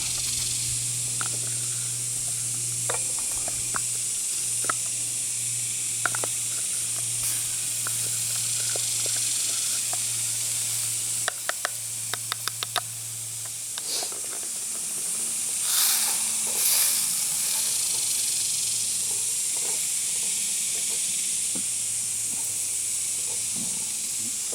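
A camp stove hisses steadily while heating a U.S. G.I. mess kit pan, a constant breathy roar with scattered clicks and knocks and a low intermittent hum, with brief voices in places.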